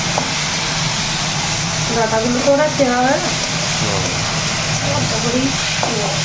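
Vegetables and leafy greens frying in oil on a home stove, a steady close sizzle running throughout with voices talking over it.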